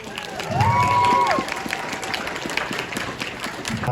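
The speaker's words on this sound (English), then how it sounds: "Give her a round of applause." A crowd at the AniRevo Toronto 2025 anime convention claps and cheers for a guest performer, with a whistle-like cheer rising early before the clapping settles into a steady, moderately loud patter.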